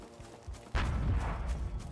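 Gunfire and battle noise from the war video game Total Conflict: Resistance: a soft thump, then a sudden loud, rumbling burst that holds as a dense low roar for about a second.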